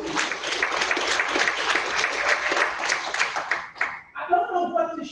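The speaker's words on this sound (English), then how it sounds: "Give us a round of applause." Audience applause at a county board of education meeting honoring a retiring art teacher, sustained dense clapping for about four seconds that fades out, followed by a voice starting to talk.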